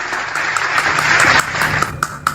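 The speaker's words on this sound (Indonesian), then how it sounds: "tepuk tangan dulu yang meriah" Lively applause from an audience at a religious talk, dense clapping throughout with a few sharper individual claps standing out near the end.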